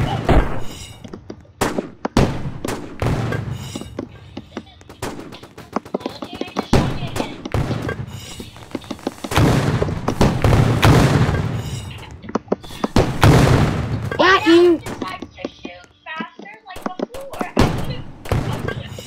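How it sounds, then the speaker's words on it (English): Repeated sharp bangs and booming blasts from explosions and gunfire in a Roblox shooter game burst out irregularly while players talk excitedly throughout. "I heard the explosion."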